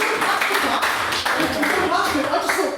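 At a debate, an audience gives brief bursts of clapping while a nearby voice keeps talking over them.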